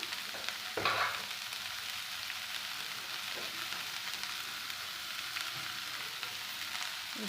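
Onions sauté in a pan with salt for a drumstick-leaf stir-fry, giving a steady soft sizzle, with one sharper scrape of a spatula near the start and fainter stirring later.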